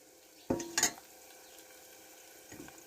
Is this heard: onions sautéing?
yes